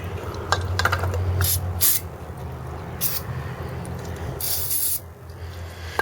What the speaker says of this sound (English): Need more carburetor cleaner.